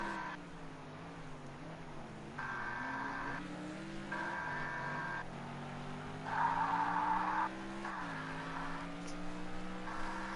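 McLaren race car in a racing video game, its engine droning steadily and shifting in pitch with bursts of high tire squeal that come and go over about ten seconds.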